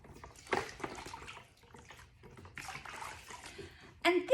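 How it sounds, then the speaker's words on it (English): Hands being washed in a bucket of water while making plaster tile moulds, with intermittent splashing and sloshing swells, a louder splash near the end, and a voice speaking between them. "I'm just going to clean my hands."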